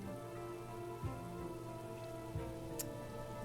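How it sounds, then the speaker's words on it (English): Soft rain in the video game Book of Hours, a steady, even patter on a surface with a few faint drop ticks, continuous and alone with no talk. "Okay, rain. Soft rain brings life."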